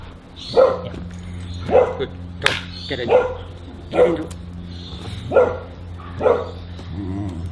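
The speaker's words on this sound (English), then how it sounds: "If you're gonna bark, you get it over with." A dog barks indoors in a regular run of about seven sharp woofs spaced roughly a second apart, while a person talks softly between the barks.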